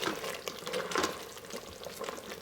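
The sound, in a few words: chicken masala curry simmering in Instant Pot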